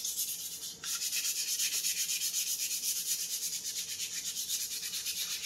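3M sandpaper is rubbed back and forth over a 3D-printed part in a fast, even rhythm, a close, hissing scrape that continues after one brief pause near the start.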